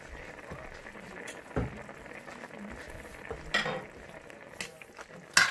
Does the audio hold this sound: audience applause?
no